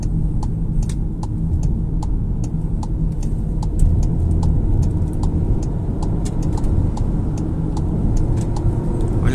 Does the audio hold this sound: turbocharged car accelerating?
yes